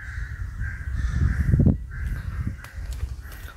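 Crows caw repeatedly at Banteay Toap temple, several harsh calls in uneven succession, fairly close and loud over an outdoor background with faint insect or ambient hiss.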